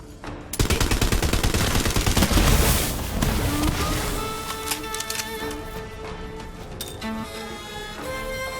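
Bursts of rapid gunfire in the shooter Borderlands 3 during a fight at a bathhouse, loud and close at first, then easing into a steady rattle under music and game sounds.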